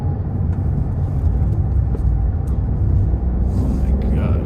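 A car engine labours hard in low gear while climbing a steep road, a loud, continuous rumble that holds steady throughout with no letup.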